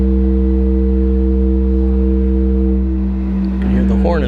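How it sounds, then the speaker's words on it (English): A ship's horn at a railroad car ferry in Manistee, Michigan, sounding as a loud, sustained, deep multi-tone blast that holds steady throughout, with other sounds rising near the end. "You can hear the horn in the background"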